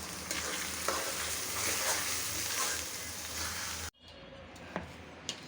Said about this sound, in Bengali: এখন চালটা ভালো করে এটা ভাজবো।